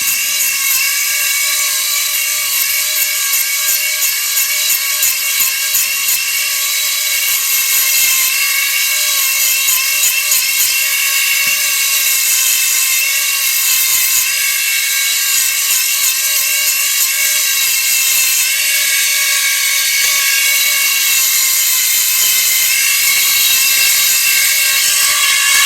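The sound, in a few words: old Dremel rotary tool grinding rod guide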